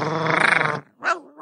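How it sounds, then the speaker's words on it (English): Dogs give a deep, rough growling bark followed by a shorter second bark, close and loud, with no talking. "instead of using clips from the English dub, I'll be substituting that with dogs barking"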